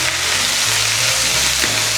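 Onions and peppers stir-fried in a pan, a loud continuous close sizzle with a hum underneath and slight stirring scrapes.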